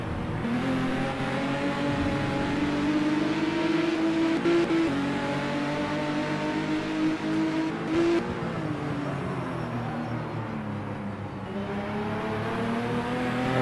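Touring cars race at the Lady Wigram circuit in a 1985 New Zealand championship round, engines droning loudly and steadily throughout with pitch rising and falling through gear changes, one car's note sweeping up as it runs onto the main straight.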